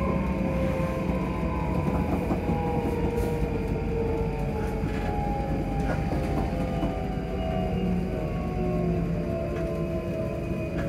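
Train approaching Livingston North station, a steady onboard rumble with sustained whining tones from the motors and wheels, continuous and fairly loud with faint clicks over the track.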